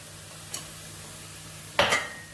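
A spoon stirs chicken coated in coriander and chili powder in a pan, giving a faint scrape early and then a louder clattering scrape against the metal near the end over a soft sizzle.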